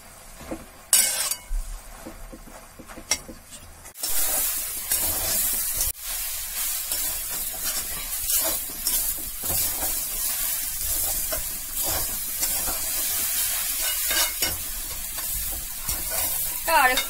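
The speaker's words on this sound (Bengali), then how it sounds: "পেঁয়াজ, রসুন, কাঁচা লঙ্কা, চানা ডাল এগুলোকে একটু লাল লাল করে ভাজতে হবে" Onion, garlic, green chili and chana dal frying in a pan, starting with light clinks and stirring, then bursting into a loud, steady sizzle with repeated stirring scrapes and occasional metal clinks throughout.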